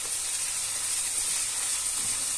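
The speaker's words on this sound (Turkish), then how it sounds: "Pirincimizi de aldım tavaya." Rice toasting in a hot frying pan gives a steady, even sizzling hiss that holds at one level throughout, with no talking.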